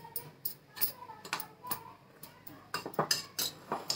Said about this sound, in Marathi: मी मिक्स करून घेते सगळं असं